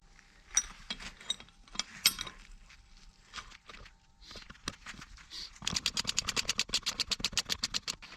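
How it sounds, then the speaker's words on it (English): A bolt on a valve spring compressor is screwed down against a Ford Explorer cylinder head, with scattered metallic clicks and taps, then a fast even run of ratcheting clicks near the end. "now we'll just need to screw this bolt, and spring should compress and valves holder should release"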